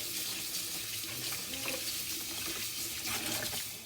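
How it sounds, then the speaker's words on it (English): A carrot is washed under a running kitchen tap, with a steady close rush of water splashing into a sink and slight shifts as the stream is interrupted. "I'm going to wash my carrot and I get right back to you"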